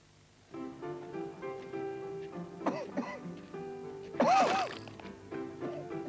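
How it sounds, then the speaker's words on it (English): A person coughs harshly a few times, with one loud hacking burst standing out, over a steady low background tone, in a 1988 British TV cough medicine advert. "A powerful cough calls for a powerful medicine."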